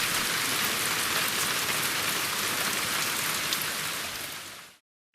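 Torrential downpour of rain, a dense, steady hiss of drops hammering a surface, loud and unbroken for several seconds before cutting off abruptly near the end; no voices.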